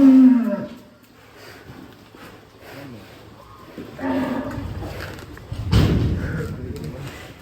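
Giant, very tall black cow in a pen, giving a deep low moo and a later loud bellow amid thumps and shuffling, with people exclaiming nearby.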